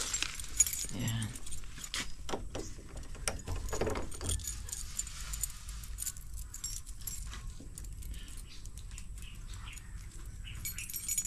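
A bunch of house keys jangles and clinks up close at a front door on arriving home, in scattered bursts that are busiest early on, with faint background noise and a brief voice.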